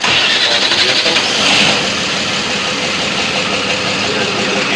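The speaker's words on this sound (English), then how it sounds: "Start the vehicle." A 2002 DAF LF 55 truck with an accelerator pedal sensor fault and engine warning, its diesel engine cranking and catching, then running loud and steady at a rough idle close by.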